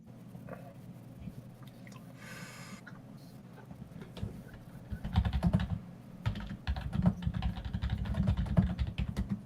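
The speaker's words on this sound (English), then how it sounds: "We can hear you typing" Keys clatter on a computer keyboard in quick irregular bursts, faint at first and then busier and louder, picked up by an open microphone during an online call, with no talking over it.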